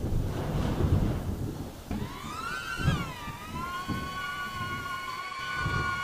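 A small DJI Neo drone hovers and climbs in wind and rain, its thin rising propeller whine cutting in through heavy gusting wind buffeting and rain noise.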